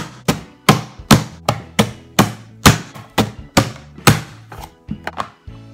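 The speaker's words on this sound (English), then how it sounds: "we're gonna take our onion and get that diced" An onion is diced in a hand-operated food chopper, giving about a dozen sharp, close thunks in a steady rhythm, each striking hard and fading quickly, with no talking.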